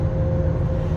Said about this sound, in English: Sorry about the noise, got a big truck next to me.